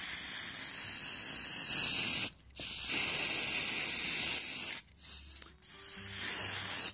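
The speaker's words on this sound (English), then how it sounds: "You can also spray paint the large lion as well" Hissing bursts of an aerosol spray can, several long sprays separated by short pauses, close and fairly quiet.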